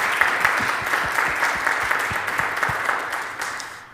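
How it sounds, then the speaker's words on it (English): Applause from attendees at an annual meeting, a steady rain of many hands clapping at moderate loudness, with some low thumps beneath, tapering off at the end. "a vote of thanks or some applause for the members of the endowment committee"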